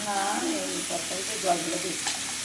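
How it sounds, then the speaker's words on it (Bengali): Steady sizzling of potatoes frying in a pan with turmeric, salt and chilli powder, a constant hiss with faint talk in the background. "এখন ভাজা ভোজা চলছে"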